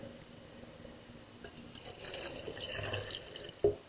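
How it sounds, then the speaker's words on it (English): Water poured from a pitcher splashes and trickles steadily into a bucket, growing fuller toward the end, closing with a sharp knock. "I'm just going to pour it into my bucket right here."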